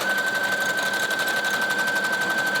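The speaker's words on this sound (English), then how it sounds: "with that zigzag stitch. Once that's sewn together there, I'm going to feed it right through" A sewing machine runs a zigzag stitch through fabric pieces for a pleated woven blouse, a steady, fast, close mechanical chatter that continues without a break.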